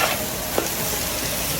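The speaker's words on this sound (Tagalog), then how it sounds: "Gisa-gisa lang natin sa mantika yan." Bay leaves sauté in hot pork fat in a pan for dinuguan, giving a steady close sizzle and frying hiss with a brief stirring scrape.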